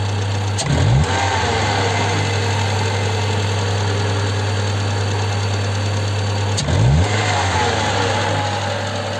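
A Hyundai Accent GLS engine revs up twice from a steady idle after its ignition coil was replaced, each blip rising and falling smoothly over an otherwise constant low engine drone, close and loud with no talk.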